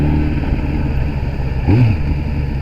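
A Kawasaki ZX10R motorcycle engine idles with a steady, close, even tick-over and a short blip of throttle near the end, alone with no talk.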